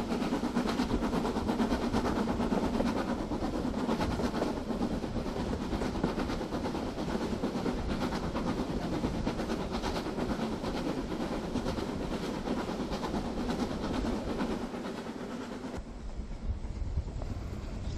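A model Southern Railway King Arthur class locomotive, 736 Excalibur, built from a wheels kit with a 1001 motor and 40:1 gears, runs along the track with a steady continuous rumble and whir that drops off slightly near the end.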